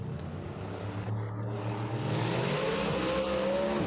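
Race car engine roar from the Assetto Corsa racing game, a steady droning note that rises in pitch and grows slightly louder as the car accelerates, with no talking.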